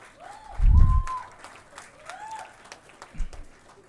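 Audience at a management institute's annual convocation ceremony applauding, scattered clapping in a large hall with a low thump and faint tonal sounds over it, fairly distant and moderate.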